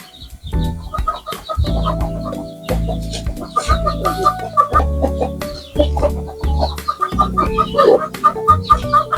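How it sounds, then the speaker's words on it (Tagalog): Native chickens and chicks clucking and peeping close by, a busy overlapping chorus of short clucks and chirps with rapid irregular rhythm. "Ayan yung mga sisiyo ko."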